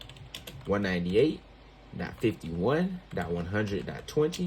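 Clicking of a computer keyboard during network lab configuration, light rapid taps mostly under a man's steady speech.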